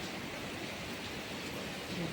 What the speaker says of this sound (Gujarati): ચાલુ થઈ ગયો વરસાદ અવાજ આવે